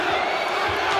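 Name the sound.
handball arena crowd cheering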